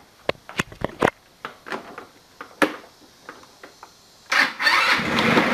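A 150cc GY6 scooter fitted with a new starter motor, after sitting for about a week, makes several short, sharp starter bursts. Near the end the engine catches and runs loudly and steadily, close by.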